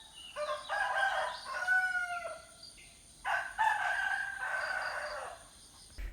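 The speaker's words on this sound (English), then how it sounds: "here you hear the roosters even at 4 o'clock in the morning" Roosters crow at around four in the morning, two long, close cock-a-doodle-doo calls one after another with overlapping crows, loud against a quiet early-morning background.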